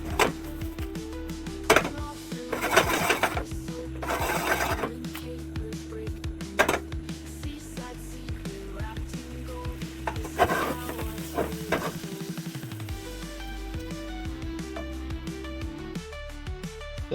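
Lobster cooking in butter in a hot pan and being moved around periodically, a continuous close sizzle and crackle with occasional scraping and clinking of utensils against the pan, and a faint voice now and then.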